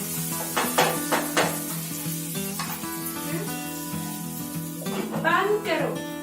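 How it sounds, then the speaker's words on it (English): Cauliflower sabzi stirred in a pan, with bursts of sizzling and scraping over a sustained musical background tone, moderately loud and close. "Just mix and let it cook for 2 to 3 minutes."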